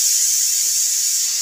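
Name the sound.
pressure cooker whistle releasing steam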